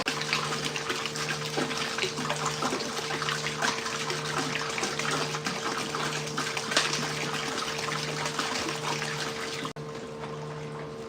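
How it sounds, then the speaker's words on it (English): Water poured from a jug into a tank while mixing a bloom fertilizer batch, a steady continuous splashing and trickling stream that runs unbroken for about ten seconds at close range, with a faint mechanical hum underneath. "I'm going to actually be adding in just regular water as well."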